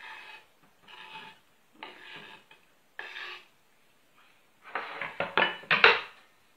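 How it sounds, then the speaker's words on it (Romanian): A knife slices through a bell pepper on a board, a few soft cutting strokes at first, then a quicker run of louder, crisp chops close by. "Tăiem și ardeiul."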